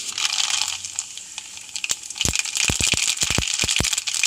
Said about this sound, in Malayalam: കടുക് പൊട്ടിക്കാം